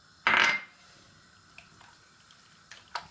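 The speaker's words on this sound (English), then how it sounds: "And I'll put the fresh tomatoes in." Fresh tomatoes drop into a soup pot of lentils and vegetables with a short wet splash and clatter, followed by faint small clinks and taps in a quiet kitchen.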